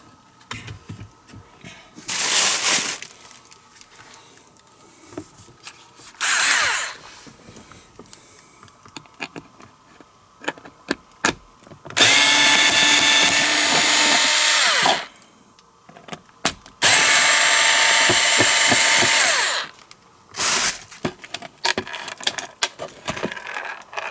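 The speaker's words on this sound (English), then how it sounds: "unscrew the 2 screws holding the original tray in place and remove the tray" A power screwdriver whirs in two long, loud bursts, removing the screws that hold the original center console tray in a DeLorean. Shorter tool bursts and light handling clicks come before and after, with no talk.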